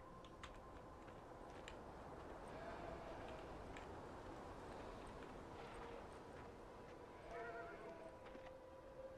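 Faint horse whinnies and hoof clip-clops from a video game sound softly under a constant hum of background noise.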